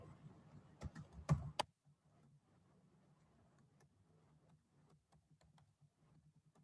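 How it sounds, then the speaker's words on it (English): A computer keyboard being typed on, a quick cluster of louder close keystrokes at first, then a long run of faint, sparse key clicks under a low room hum. "let me type something"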